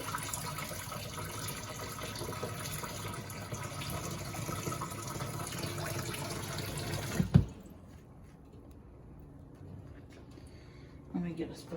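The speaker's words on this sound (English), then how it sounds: "That's a little bit too much water. I'm going to pull some of that off." Excess water poured out of a cooking pot of wild greens such as sochan: a steady, close rushing pour lasts about seven seconds, ends with a sharp clunk of the pot, then leaves a quiet room with faint clatter.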